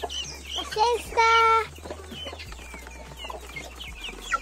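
Newly hatched guinea fowl chicks peep in short high chirps and a longer trilling burst, close by, with adult fowl clucking and a person talking in the background.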